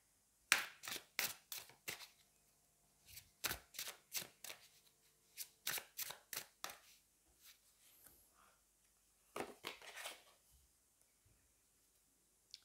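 Tarot cards shuffled by hand in a series of crisp, riffling bursts with short pauses between them, close and fairly quiet, no talk.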